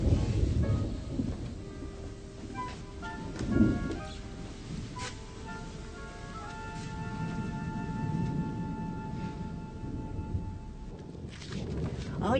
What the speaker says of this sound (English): I fear a storm.